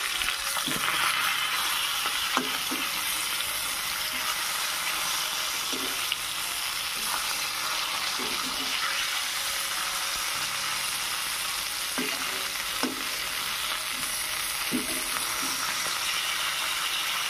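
Fish sizzles steadily in a pan with a soft, continuous fry and occasional stirring clinks and scrapes, moderately quiet and without voices.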